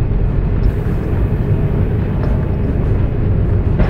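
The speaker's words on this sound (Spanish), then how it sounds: "Y ahora sí estamos despegando." A passenger airliner takes off, heard from inside the cabin as a loud, steady roar and rumble of engines and rolling wheels that stays constant throughout, with no speech.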